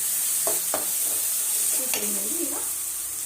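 Eggplant fries in oil as it is stirred, a continuous bright sizzle under a few scraping spoon strokes and soft clinks, close and fairly loud throughout.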